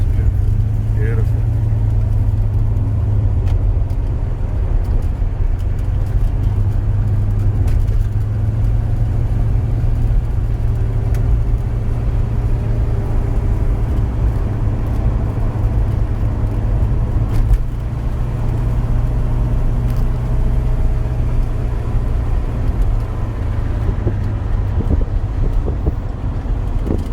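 A 1977 Holden Torana A9X hatchback replica on the move, a steady low engine drone and road rumble filling the cabin throughout, with occasional wind noise and people talking over it.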